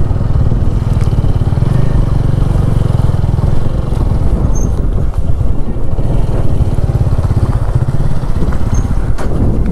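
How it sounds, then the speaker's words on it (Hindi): Motorcycle engine running loud and close throughout as the bike is ridden and brought to a stop for parking near Giu Monastery in Spiti, a steady low rumble with some clatter and faint talk. "तो बाइक को यहीं पे लगाते हैं हम"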